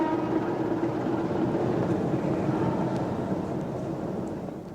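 Continuous steady rumble and rattle of a train running along rails, a loud broad roar as a radio drama sound effect, slowly fading slightly at the end, with no voices.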